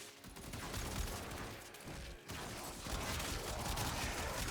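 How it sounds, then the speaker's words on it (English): Rapid, sustained automatic fire from the Phenmor rifle in Warframe rattles on continuously at steady volume, with only a brief dip near the middle and no voices. "I like to just spam bullets down range though, and it usually works out pretty good"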